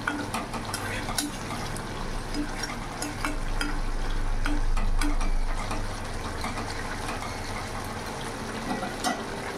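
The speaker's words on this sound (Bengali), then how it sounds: "মাছ দিয়ে খুব জোর 1 থেকে 2 মিনিট ফোটাবো, বেশি ফোটাবো না।" Sorputi fish simmers hard in a bubbling curry gravy, a continuous close bubbling and sizzling texture with a low rumbling undertone, steady throughout without any voices.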